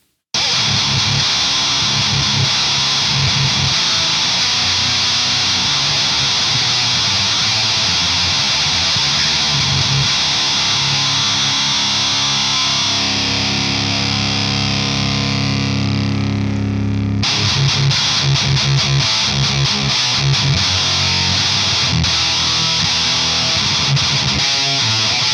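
An electric guitar plays through a Behringer HM300 Heavy Metal distortion pedal with the distortion turned all the way down. The tone is loud, sustained and effected, cuts briefly partway through, then resumes.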